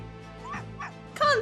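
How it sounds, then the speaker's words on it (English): A dog named Constantine in the video game Professor Layton vs Phoenix Wright giving a few short, sharp barks and yips, growing louder toward the end, set over a low game background hum. "Wait a minute, that aggressive bark."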